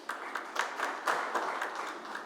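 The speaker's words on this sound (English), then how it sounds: "can I have a round of applause for my panelists?" A short burst of audience applause for panelists at a real estate conference, dense clapping at moderate volume throughout, with no talk over it.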